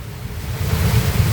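Heavy floodwater after torrential rain in Akola, Maharashtra, rushes past as a dense, continuous low roar with wind buffeting the microphone, loud and close for a brief moment.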